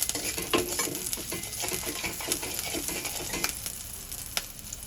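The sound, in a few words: green chili and garlic cloves sautéing in ghee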